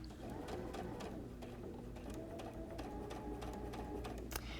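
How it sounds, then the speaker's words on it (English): Sewing machine stitching around the edge of a reverse appliqué, a steady close mechanical whirr and rapid needle chatter running without a break, with a faint click at the end and no talking. "I'm just going to use a bright contrasting color of thread so you can see where it is I'm stitching"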